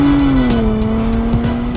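A 2023 Nissan Z with a 400-horsepower twin-turbo V6 runs hard on a racetrack, its loud, steady engine drone holding a sustained pitch while brief tire squeals cut in throughout.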